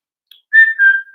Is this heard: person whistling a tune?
yes